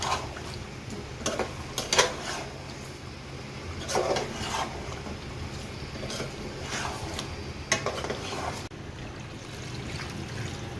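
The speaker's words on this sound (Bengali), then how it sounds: "নেড়ে চেড়ে নিই।" Fried chicken roast pieces being stirred into a spice masala in a pot, with soft scraping and wet knocking strokes at irregular intervals over a steady low background hum, fairly quiet and close.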